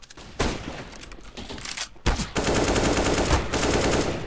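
Gunfire from a first-person shooter game, dense automatic bursts that stay loud and sustained throughout, with a short break near the middle before the firing resumes even heavier.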